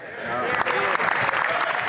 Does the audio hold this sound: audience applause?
yes